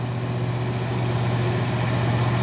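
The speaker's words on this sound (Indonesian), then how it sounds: "sepertinya truk trailer Isoteng ingin mendahului truk trailer kontainer ini" Isoteng trailer truck overtaking a container trailer truck on the road, a close, steady, heavy engine drone that holds constant throughout without talk.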